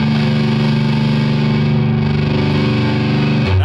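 Electric guitar played through a Jet City JCA50H amplifier with a blown transformer, set to 50% gain: a thick, continuous distorted chord drone, loud and close, holding steady before a brief shift at the end.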